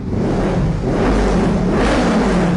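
A 2019 Honda CBR500R with a racing exhaust and its stock catalytic converter still fitted, revving up close, producing a loud, steady mid-pitched engine roar that swells as the throttle opens, with no voices.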